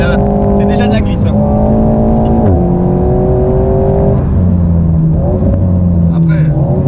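An Alpine sports car drifts, its engine revving loud and near in rising whines that drop sharply at each shift before climbing again, with voices talking over it.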